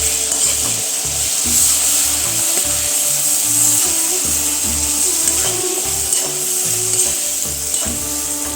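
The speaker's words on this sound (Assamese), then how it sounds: "এইখিনি ধুনীয়াকৈ ভজা হ'ব দিম।" Fish belly sizzles steadily in hot oil in a pan, a continuous close frying hiss with occasional soft scraping or stirring, no voices.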